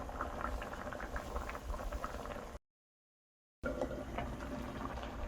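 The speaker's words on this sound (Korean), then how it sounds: "이렇게 보글보글 끓기 시작하니까 불을 은근하게 끓이셔가지고요" Rice porridge with zucchini and dried pollack simmers in a pot, a soft, continuous close bubbling and popping that cuts out for a moment midway, then resumes just as before.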